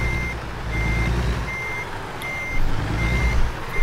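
A truck backing up with a trailer in American Truck Simulator gives a steady series of evenly spaced high reversing beeps, about nine in a row, over a low rumbling engine drone.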